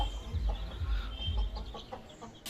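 A hen clucks in a few soft, repeated low bursts close by, with rustling and faint background noise.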